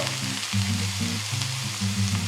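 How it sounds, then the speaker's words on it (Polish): Steady sizzling of lazanki noodles with white cabbage frying in a pan, a continuous crackling hiss with a low rumbling undertone, close and moderately loud. "Dokończę smażenie na malutkim palniku."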